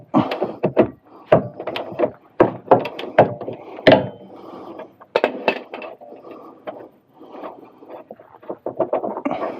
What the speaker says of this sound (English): I'm also going to re-torque the connections, the U-bolt bolts and nuts